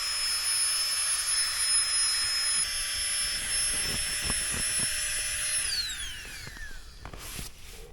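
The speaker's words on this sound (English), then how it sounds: "I use that to blow up my Thermarest Neo" A small electric pump inflates a Thermarest Neo X sleeping mat with a steady high-pitched whirring drone that holds for several seconds, then winds down and stops, leaving a few faint clicks and handling sounds.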